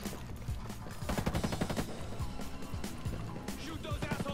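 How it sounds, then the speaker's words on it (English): Rapid gunfire during a gunfight in Ghost Recon Breakpoint, dense overlapping shots and bursts crackling continuously at close range amid busy combat noise. "I'm running around shooting people both in a gunfight."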